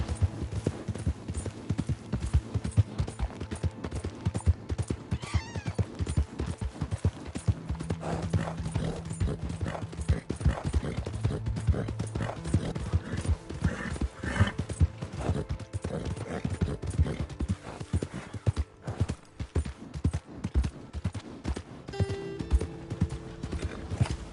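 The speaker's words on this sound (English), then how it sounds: "Hey! My horse!" Steady clip-clop of horse hooves trotting along continuously, fairly close, with a brief whinny and some background rumble, from the video game Red Dead Redemption 2.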